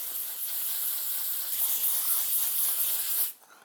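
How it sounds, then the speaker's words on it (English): Firm circular sanding of a vintage dirt bike sprocket with a flat sandpaper board makes a steady, close, bright abrasive hiss that runs continuously before stopping abruptly. "Keeping real firm pressure on there and keeping the board flat against the sprocket."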